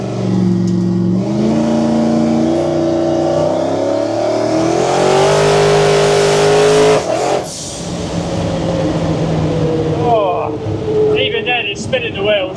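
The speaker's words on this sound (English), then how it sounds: "Even then, it's spinning the wheels." A fast car accelerates hard with its wheels spinning, the engine note climbing steadily in pitch for several seconds before a shift, then pulling again, loud and close, heard from inside with people talking over it.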